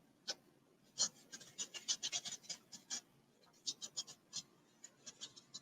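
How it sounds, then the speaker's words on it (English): A paint brush scrapes and scrubs paint onto a canvas of a landscape sky, making a string of short, dry, close scratching strokes in irregular bursts with small gaps between them. "there's that scraping again because I'm just kind of scrubbing it in"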